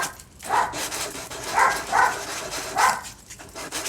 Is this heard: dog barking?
yes